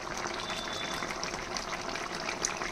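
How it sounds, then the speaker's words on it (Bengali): Crab curry bubbling in a covered pot on the stove, a steady close simmering hiss and watery gurgle that runs continuously without pauses and without talk. "দেখো কাঁকড়ার ঝোল ফুটছে, জল অনেকটাই শুকিয়ে এসেছে।"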